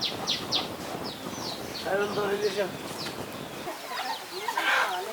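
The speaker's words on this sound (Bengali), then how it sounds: "দেশি মোরগ আছে আর বড় মুরগি আছে সব বিক্রি হয়ে যাচ্ছে" Local desi roosters and hens on a small farm cluck and give short, repeated high chirps, fairly close, while a person talks over them.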